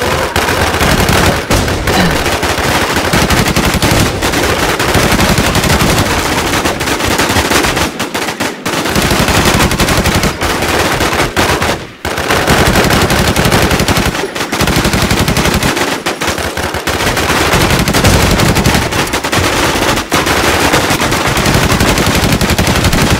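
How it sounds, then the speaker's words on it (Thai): Sustained automatic gunfire from the video game Infestation, dense rapid bursts with only brief pauses, loud and close throughout. "กูยิงแตกเยอะมากเลยเพื่อน"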